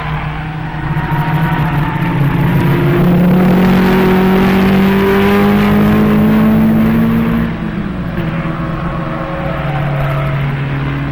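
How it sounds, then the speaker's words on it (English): Porsche race cars at the 1958 Road America race roar past at over 100 miles an hour down the straightaway, their loud engine notes close together and sliding downward in pitch as they pass. "Reichert and Blanchard playing bumper tag at over 100 miles an hour."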